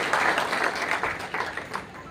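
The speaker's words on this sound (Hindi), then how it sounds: "जो हमारा पुलिस विभाग है उसके लिए आप तालियों से उनका स्वागत करिए" Audience applause greets police department staff, a brief burst of steady clapping from a crowd.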